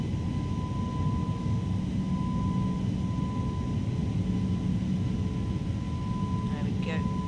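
A steady airliner engine roar fills the flight simulator cockpit during a takeoff roll and climb out from Chicago toward Detroit, loud and continuous, with a sustained tone running underneath and brief cockpit chatter near the end.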